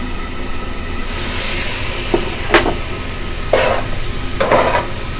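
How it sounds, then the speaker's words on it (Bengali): Green peas go into a pot on top of rice frying with spices for Bengali bhuna khichuri: a constant loud sizzle broken by three or four short rattling, scraping bursts. "তো আমি এখন মটরের দানাগুলো দিয়ে দিচ্ছি উপরে।"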